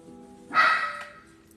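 A dog barks once, loud and close, a single sharp bow-wow with a brief tail, while playing with an older dog indoors.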